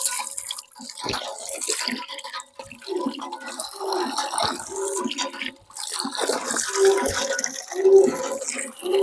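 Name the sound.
borewell water being poured for drinking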